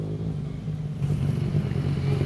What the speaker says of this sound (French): c'est des Allemands en moto qui font les couillons sur la plage et sur le gazon depuis une demi-heure